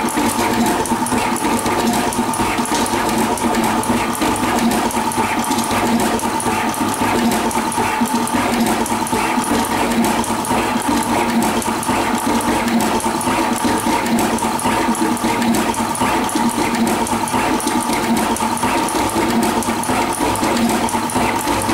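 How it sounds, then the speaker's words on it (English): A TM220A/240A pick-and-place machine works rapidly with two heads, mounting components on a PCB board at various angles. It gives off a continuous, loud, even mechanical whir and hiss that holds steady throughout. "the machine is working with 2 hands, very quick"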